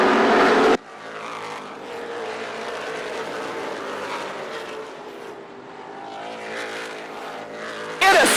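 Late model stock cars race around Kalamazoo Speedway, engines droning and shifting pitch as they pass, with louder bursts at the start and end. A commentator's voice is heard over the racing.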